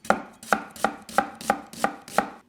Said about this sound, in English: I'm just going to finely slice it